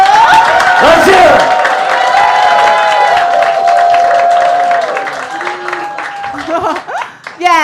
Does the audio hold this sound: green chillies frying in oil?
no